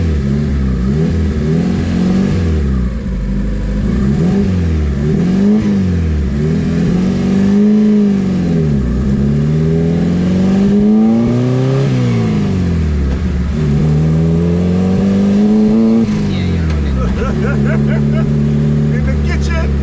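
A turbocharged Honda-powered Smart Fortwo 451 accelerates repeatedly on a real drive, its engine rising and falling in short revving sweeps, loud and close, with voices talking over it.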